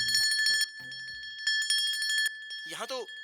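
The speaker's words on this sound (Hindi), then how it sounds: "यकीन ना हो तो मैं घंटी बजाता हूँ ना" A bicycle-style bell rings in several quick bursts, bright and close, followed by a short vocal sound at the end.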